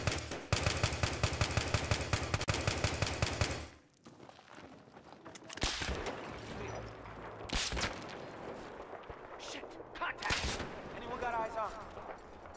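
Heavy .50 caliber gunfire in Battlefield 4 rattles out as a rapid, loud burst for several seconds, followed by scattered distant shots and impacts while players talk.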